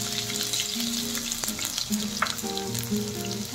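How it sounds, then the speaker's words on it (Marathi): Chopped ginger and garlic pieces sauté in a pan, with a constant close crackling sizzle broken by occasional scrapes and clinks of a stirring spoon. "छान परतून घेऊया त्याला।"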